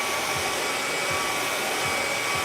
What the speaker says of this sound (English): I don't know if you can hear me over that hairdryer